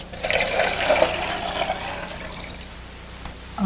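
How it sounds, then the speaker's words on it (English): Water poured out of a container during a classroom sponge demonstration, a splashing, trickling flow that is strongest early on and fades toward the end, with no talking. "let's pour out the water that we have left"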